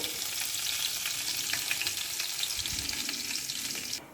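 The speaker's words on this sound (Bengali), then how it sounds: "তেলটা গরম হয়ে গেছে, আমি কালো জিরে ফোড়নে দিয়ে দিচ্ছি" Nigella seeds (kalo jeere) crackle and sizzle steadily in hot oil for tempering, a dense continuous frying hiss with small pops throughout that cuts off abruptly at the end.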